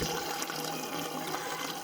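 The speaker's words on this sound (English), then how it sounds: "it's not just feeding the pond, but also aerating the water" Water from a mountain stream pours through a pipe into a pond, a steady, close splashing gush of running water with no voices.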